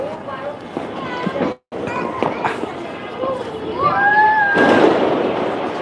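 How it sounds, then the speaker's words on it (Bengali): New Year fireworks viewed from a rooftop crackle and pop in the distance, with rising whistles, while people talk nearby. "এই বছর আতসবাজি অনেকটাই কম রয়েছে দেখতে পাচ্ছেন"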